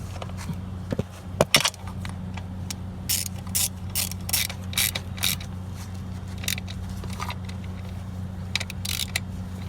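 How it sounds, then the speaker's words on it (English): Socket and ratchet tightening valve cover bolts on an Acura RDX: quick bursts of metallic ratchet clicks, near and fairly quiet, separated by pauses over a low steady background hum. "Then to get to the rear, just use the socket and ratchet."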